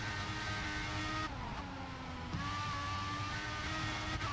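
A Formula 1 car in the racing video game F1 2016 holds a loud, steady high-pitched engine whine at Budapest, with a brief gear-shift dip in pitch partway through.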